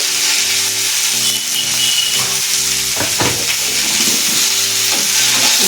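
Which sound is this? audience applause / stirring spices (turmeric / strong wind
stirring spices (turmeric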